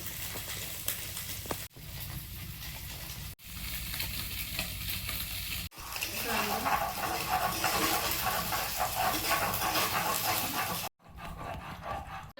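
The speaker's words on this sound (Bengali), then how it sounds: "জিরে দিয়ে কালো জিরে ফোড়ন দিয়ে একটু ভেজে নিচ্ছি।" Cumin and nigella seeds fry in oil in a Bengali home kitchen, giving a steady, crackling sizzle that cuts off abruptly several times.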